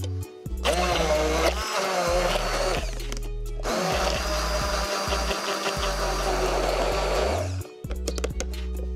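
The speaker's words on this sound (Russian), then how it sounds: "И в блендере измельчим с апельсиновым соком." A blender purees banana with orange juice in loud whirring bursts: one short run, a brief stop, then a longer steady run of several seconds before it cuts off.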